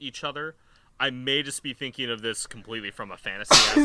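Someone talks steadily, then a single loud, sharp sneeze bursts out near the end.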